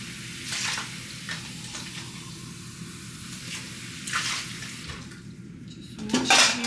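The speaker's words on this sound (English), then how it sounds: "And then I'm gonna rinse this." A pan is rinsed under running water in a kitchen sink, with a steady flow, light clinks of metal and dishes, and a louder splash and clatter near the end.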